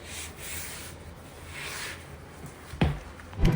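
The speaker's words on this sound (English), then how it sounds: "Let's go ahead and wipe this down." Surface being wiped down while cleaning a renovated rental home, soft rubbing swishes in a couple of strokes, followed by two sharper knocks near the end, fairly quiet and close.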